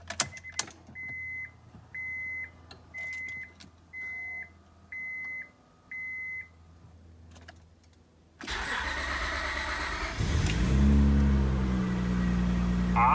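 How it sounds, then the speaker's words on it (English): A 2002 Acura TL-S, after fuel tank replacement: a series of evenly spaced chimes sound first, then the engine cranks briefly, catches and settles into a steady, loud idle close by. "Let's start the car."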